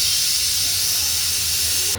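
Steam hissing from a pressure cooker after two whistles while green chilli and pea curry cooks, a loud, steady, unbroken hiss running the full length and stopping sharply at the end.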